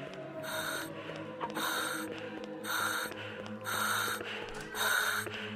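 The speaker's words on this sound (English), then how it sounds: "Heavy breathing is fucking freaky." Heavy rhythmic breathing from a horror video game, The Prodigal Soul, comes in five loud breaths that rise and fall over a low droning ambient score, with no talk.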